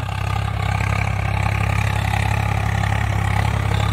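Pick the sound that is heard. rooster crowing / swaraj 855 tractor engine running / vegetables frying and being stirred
swaraj 855 tractor engine running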